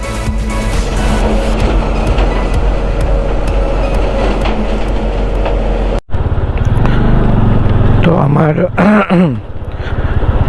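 A motorbike rides a rough mountain road from Syange to Manang in Nepal, its engine roaring loud and constant up close. The spinning rear wheel sputters and skids in a brief cut and surge near the end, with a voice briefly heard.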